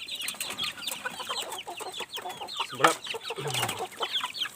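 Backyard chickens cluck busily and close by in a steady overlapping chatter, with a brief spoken word in the middle.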